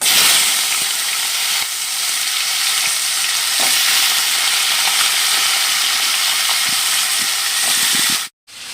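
Grated raw papaya drops into a hot pan and sizzles loudly and steadily, a dense hiss with occasional stirring scrapes, cut off abruptly near the end.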